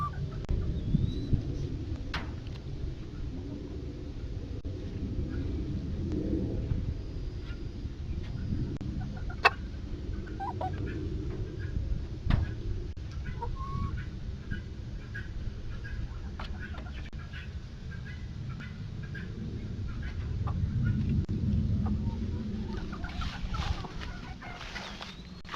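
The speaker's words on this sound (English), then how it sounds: "And here's our new batch of chickens." Chickens in a backyard coop, a rooster among them, murmur and cluck at low level with occasional sharper calls, a busy flock rustling and chattering steadily at moderate distance.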